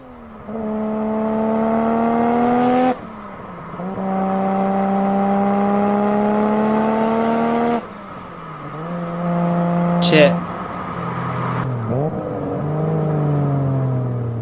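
A loud sports car engine revs hard in repeated climbing bursts, each rising pitch sweep cutting off sharply before the next, with people exclaiming in between.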